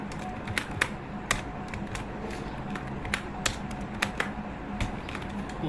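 Scattered sharp keystrokes on a computer keyboard while typing code, irregular taps up close over a faint background hum.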